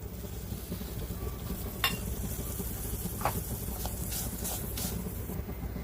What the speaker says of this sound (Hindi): चम्मच चला चला के ये करेंगे, भुनेंगे